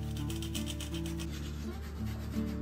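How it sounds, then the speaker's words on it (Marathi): Dry coconut being grated by hand, a steady close rasping scrape repeated in quick strokes throughout, with no talking. "सो मग मी थोडंसं सुकं खोबरं किसून घेते"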